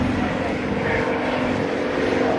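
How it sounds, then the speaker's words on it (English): A full-scale P-51 Mustang flown by remote control roars past at a 2010 naval air station airshow, a loud continuous piston-engine drone with a propeller buzz, a crowd murmur faintly beneath. "we've got a P-51 Mustang being operated by remote control"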